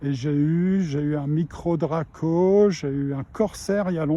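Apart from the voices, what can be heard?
No everyday noise stands out behind the speech.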